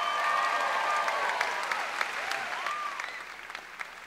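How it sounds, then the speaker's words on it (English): A comedy-show audience claps steadily, with a few whistles and cheers, the applause slowly fading toward the end. "Let's give a nice round of applause for Luigi, the psychic parrot."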